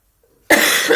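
A single harsh cough bursts out abruptly after half a second of near silence, close and loud, continuing as a rough exhalation to the end.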